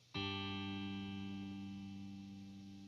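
A single electric guitar chord strummed with the compressor pedal switched off, rings out alone with a sharp attack and decays steadily as it sustains.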